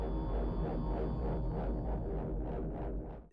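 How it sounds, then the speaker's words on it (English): The alien probe effect from Star Trek IV, built from a processed human voice, comes as a dense, droning, wavering moan with pulsing swells that grow more distinct toward the end before fading, heard alone. "And that's the sound of the probe in the movie."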